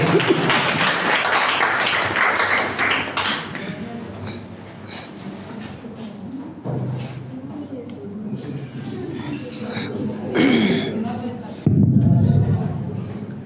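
At a public speaking training session, an audience claps for a volunteer speaker in a short, fairly loud burst that fades into voices talking.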